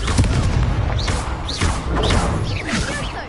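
Fiery spell blasts from the Confringo curse in the Hogwarts Legacy video game, several booming bursts with whooshing tails in quick succession over a dense, loud combat mix.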